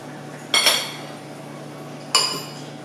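A metal spoon clinks twice against a plate of hot rice, with two sharp, close taps about one and a half seconds apart that ring out briefly in a quiet room.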